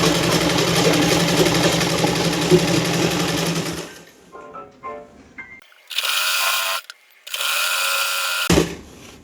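A sewing machine stitching the seam of an A-line suit with a diagonal line of stitching, running in a loud steady whir, pausing with a few mechanical clicks, then starting again in two more close, continuous runs.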